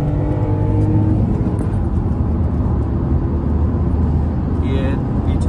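A Hyundai i20 diesel accelerates hard in a drag race against a VW Vento TSI, a loud, steady engine roar and road rumble that holds throughout the clip.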